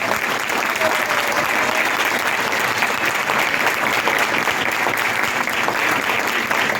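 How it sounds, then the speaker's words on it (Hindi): A church congregation applauds loudly and continuously at a sermon, a dense, close roar of clapping hands with crowd murmur mixed in throughout. "जोरदार तालियां बजाएं खुदा के।"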